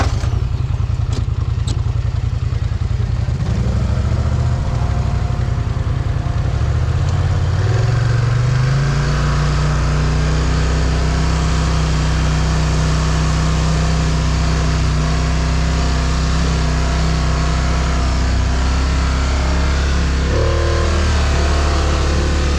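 A Can-Am Renegade XMR 1000R and a Polaris Scrambler XP 1000S race side by side, loud engines roaring close by, revving and climbing in pitch through the run with clattering and gear changes along the way.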